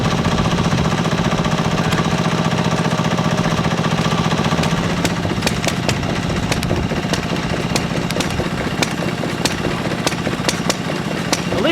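A small 1.5-horsepower 1952 stationary engine driving a water pump chugs steadily throughout with a continuous low mechanical drone, joined midway by rapid metallic knocking and clatter.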